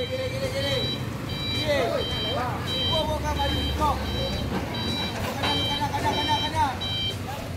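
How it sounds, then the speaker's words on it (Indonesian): A steady series of evenly spaced reversing beeps comes from a tarpaulin-covered truck backing away from a low bridge, over a bed of engine rumble and street noise. "Dan truk ini terpaksa harus mundur lagi."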